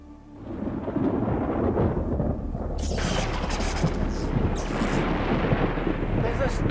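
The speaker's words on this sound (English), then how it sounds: "There's a storm coming!" Thunder from an approaching storm rolls in as a deep, sustained rumble that swells quickly and holds loud, with a harsh crackling edge joining partway through.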